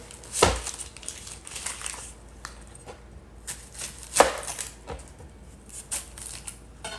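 An onion being chopped with a knife on a board: a series of sharp, close cuts at an irregular rhythm, with crisp slices and soft crunches between them and no talking.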